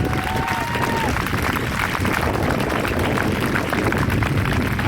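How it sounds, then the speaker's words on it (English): Crowd at an outdoor vigil cheering and applauding in a steady, dense wash of claps and voices that holds for the whole stretch, with a faint whistle-like tone early on. "So I want to hear one more cheer."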